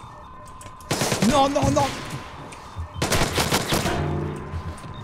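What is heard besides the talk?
gunfire in Splinter Cell Blacklist video game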